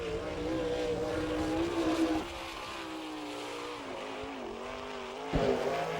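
Steinbrick sprint car number 92 from Fremont, Ohio, takes the green flag at Attica, its engine roaring loudly and climbing in pitch, dipping, then surging again as it powers around the dirt oval alone.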